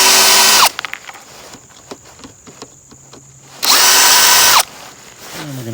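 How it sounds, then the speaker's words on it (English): Power drill boring out rivets on the soft top of a 1992 Mazda Miata: two loud whining bursts of about a second each, separated by quiet clicks and handling noises. "And we're going to drill out these rivets, number 1 and number 2 below."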